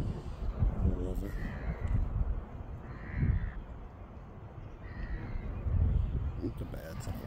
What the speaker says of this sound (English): The birds are just enjoying it anyway.